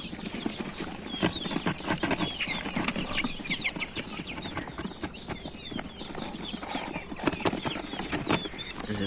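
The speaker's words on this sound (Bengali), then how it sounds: "এই যে আমাদের কোয়েল পাখিগুলা" Caged quail birds flapping their wings, rapid fluttering bursts and scuffling repeated throughout, close and fairly busy, with faint chirps between the flurries.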